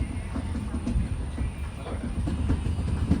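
An LHB weekly express running from Secunderabad to Goa rolls along with a steady, rumbling clatter of wheels over track, heard from on board as a continuous close drone.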